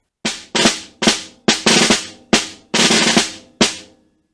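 Snare drum plays quick buzzed seven-stroke ruffs, each a short rolled burst ending in an accent, about eight in a row at a brisk, steady pace, close and loud.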